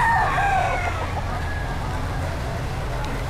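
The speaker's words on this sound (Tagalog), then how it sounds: "Ayan na, ano yung mga manok oh." A rooster crows loudly right at the start among chickens at a pet market in heavy rain, then fades into steady rain and background murmur with occasional talk.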